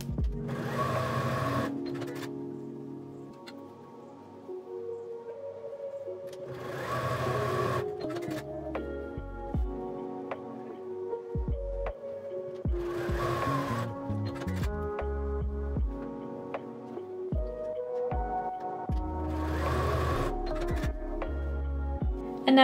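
A sewing machine stitches rows of a disappearing pinwheel quilt block together in several steady runs, its motor whirring close and clear between short pauses, with background music playing throughout.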